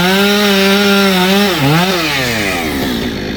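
Chainsaw cutting up firewood outdoors, a steady loud engine drone that dips and rises in pitch as the chain bites into the wood, running continuously with no talk.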